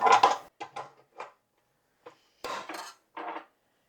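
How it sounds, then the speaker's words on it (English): A mixing bowl set onto a stand mixer makes a short series of close clinks and clatters, a quick burst of knocks followed by a pause and two more clanks. "Let's go ahead and put our bowl on the stand mixer."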